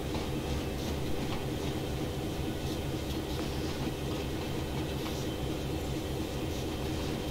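A train passes in Train Sim World on a Canadian line near Oakville, a steady rumbling roar of rail noise that stays loud and constant throughout, with no voices.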